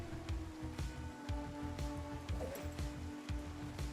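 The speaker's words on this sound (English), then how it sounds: "Get out of the rain for a second." Steady rain falls in the zombie survival game Project Zomboid, a soft continuous patter with a low droning hum running underneath it.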